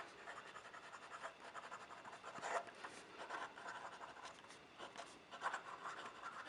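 A fine-nib Pilot Vanishing Point fountain pen writing on paper, a faint, close, scratchy scraping in short strokes with small pauses and a few light taps.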